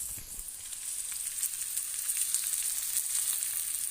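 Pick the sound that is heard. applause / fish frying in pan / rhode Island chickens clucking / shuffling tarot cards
fish frying in pan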